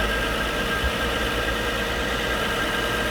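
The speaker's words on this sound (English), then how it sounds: "Sounds like a bearing, it's either thrust bearing, but I think it's more input shaft bearing or something." A Nissan 350Z gearbox with a worn input shaft or thrust bearing gives off a steady, continuous mechanical drone and whir with the clutch released and the engine idling, close and even throughout with no speech.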